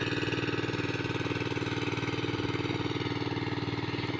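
Engine-driven water pump draining a catfish pond runs steadily at idle, a continuous mid-pitched rhythmic chug holding even and fairly loud throughout with no voices.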